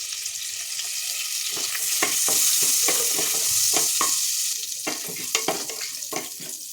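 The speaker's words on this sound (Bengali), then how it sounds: "কড়ার মধ্যে পরিমাণ মতো তেল আর এই বাটারটা দিয়ে দেবো। এবার ফোড়নটা দিয়ে দেবো।" Whole spices, bay leaf and dry red chillies crackle in hot oil and butter in a kadai, a loud sizzle that swells and then breaks into a run of sharp pops and spatula scrapes.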